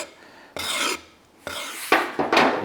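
Hand sanding strips the glossy lacquer finish from an axe handle during rehandling, four long rasping strokes of sandpaper on wood, close and loud, with short pauses between them.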